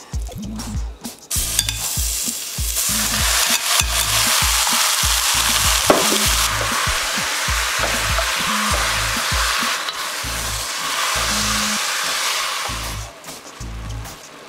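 Pork pieces for carnitas browning in an oiled pot give a loud, continuous sizzle, punctuated by a steady rhythm of bumps and scrapes as the meat is added and moved around.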